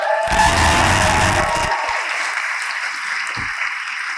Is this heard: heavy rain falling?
no